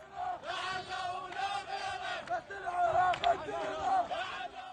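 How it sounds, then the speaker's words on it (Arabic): Protesters chanting in Tahrir Square, Baghdad, a crowd of voices rising and falling in rhythmic shouted waves at moderate distance, fairly faint overall. "دوت هتافات المتظاهرين في ساحة التحرير ببغداد ضده"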